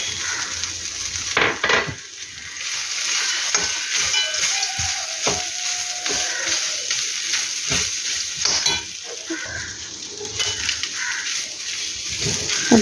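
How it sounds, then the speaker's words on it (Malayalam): Ivy gourd and peanuts sautéing in a hot pan, with a steady sizzle and repeated scraping and clinking of a spatula as the mix is stirred, close and fairly loud, with no talking. "അതിലേക്ക് കപ്പലണ്ടിയും കൂടി ചേർത്ത് ഒന്നും കൂടി വഴറ്റുക"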